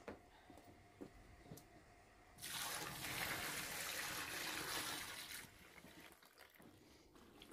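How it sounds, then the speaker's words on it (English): Water poured into a kitchen-sink bucket holding fabric for dyeing, a soft splashing rush that starts after a quiet stretch, runs for about three seconds, then stops, leaving faint handling noises. "from there I started to add some water"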